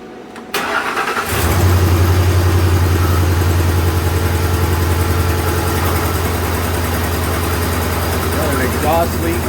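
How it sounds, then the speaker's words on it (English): A 2007 Ford F-150 with the 4.6 engine, fresh plug and coil in cylinder two, cranks briefly and fires up, then settles into a loud, steady idle that runs continuously to the end. "we're going to start it up and see how it runs"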